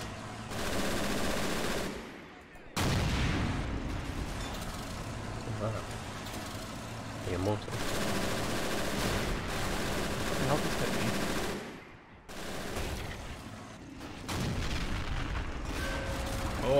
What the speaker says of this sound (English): a lot of fire coming in right now, dude